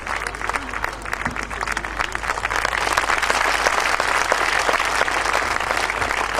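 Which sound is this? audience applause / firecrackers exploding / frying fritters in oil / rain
audience applause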